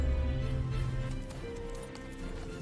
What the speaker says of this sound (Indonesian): Scene lalu berpindah ke awal saat Tong De dikejar-kejar oleh sekelompok orang berkuda